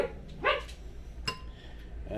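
A small dog lets out a couple of short, sharp yips in a home kitchen while chili cheese dogs are being made, one near the start and another a moment later, over a low steady background hum.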